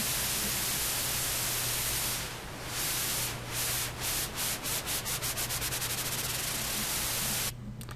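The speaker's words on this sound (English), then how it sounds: "Around this area, it'll be very, very fast wobbling. It'll almost sound like rough noise" A swept FL Studio 10 noise effect: loud, rough static whose pulsing wobble speeds up steadily until it becomes a rapid flutter, then cuts off near the end.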